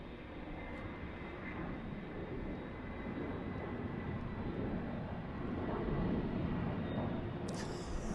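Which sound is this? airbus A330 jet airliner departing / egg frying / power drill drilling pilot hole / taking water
airbus A330 jet airliner departing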